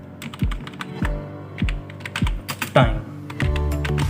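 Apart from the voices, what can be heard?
typing on a computer keyboard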